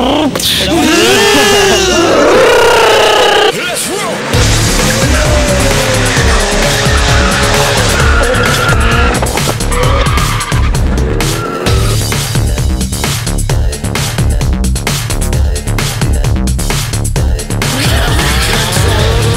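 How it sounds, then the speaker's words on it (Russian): A race car warming its tires before a start, engine roaring loudly with sustained tire squeal and skidding throughout, near and continuous, with occasional voices underneath. "Тут водитель с Питера тут прогревает резину"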